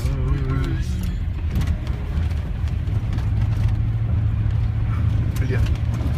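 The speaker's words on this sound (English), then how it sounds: "There's a bus" A bus on the road gives a low, steady engine rumble with faint road noise, and a few brief voices are heard near the start.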